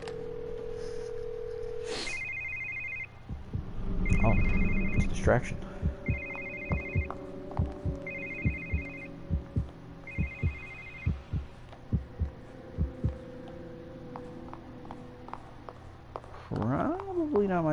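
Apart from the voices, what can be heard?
telephone ringing in The Evil Within video game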